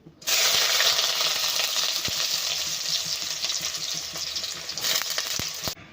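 Chopped onions hit hot oil in a pan and erupt into a loud, continuous broadband sizzle that holds steady, with a few faint clinks of a utensil near the end, close-up with no talk.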